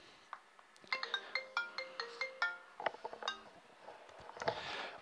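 A telephone ringtone plays a bright, repeating electronic melody of quick stepped notes, fairly loud and close, with a few clinking sounds near the end and no one talking.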